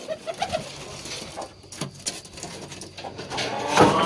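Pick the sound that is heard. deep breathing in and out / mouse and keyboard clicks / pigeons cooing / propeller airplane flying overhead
pigeons cooing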